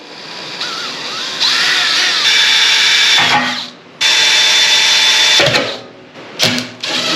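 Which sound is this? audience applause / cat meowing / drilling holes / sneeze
drilling holes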